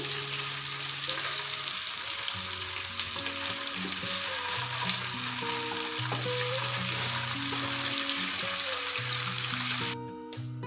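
Chicken pieces frying in hot oil until reddish-brown give off a steady, dense sizzle, with a faint tonal hum running beneath it and a brief drop in level right at the end.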